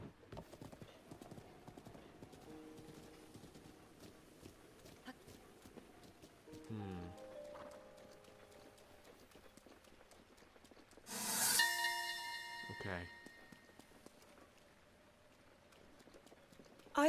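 Horse hooves clip-clop in a steady trotting rhythm in Zelda: Breath of the Wild, close and clear over quiet game music, with brief chimes and a short spoken word.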